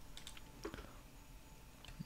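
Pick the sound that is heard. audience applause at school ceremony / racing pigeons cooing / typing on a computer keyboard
typing on a computer keyboard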